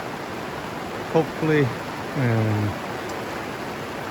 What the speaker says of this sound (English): been raining like this pretty much for 2 days now